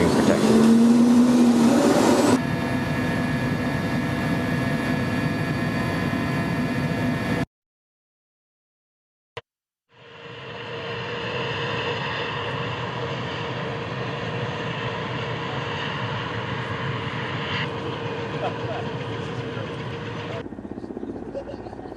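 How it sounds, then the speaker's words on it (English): A steady, loud turbine and rotor roar from a Russian Mi-8 helicopter fills the space, broken by a brief silence and a click, then the engine drone returns and holds. "This is the Russian Mi-8 helicopter."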